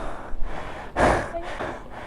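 Heavy, close breathing from someone out of breath during a climb to a Pacific viewdeck in Dingalan, a few gasping inhales and exhales, one stronger in the middle.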